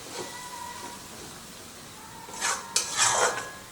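A spatula scraping and clinking in a pan while paneer bhurji masala is stirred, quiet at first, then a few louder metallic scrapes and a sharp clink toward the end over a faint background.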